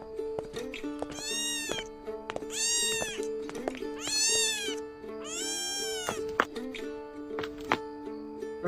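A cat meows four times in a row, each call drawn out and nasal, close and loud over a steady musical drone with scattered light knocks.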